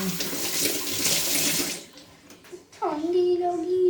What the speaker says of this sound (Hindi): इसको पानी से थोड़ा सा वॉश कर देंगे